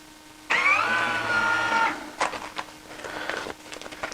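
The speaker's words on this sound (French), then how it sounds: "J'appuie sur le bouton pour faire ma soudure" A bag sealer heat-welds a plastic bag for packing cheese, giving a steady electric hum with a tonal buzz for about a second and a half, then some soft handling clatter afterward.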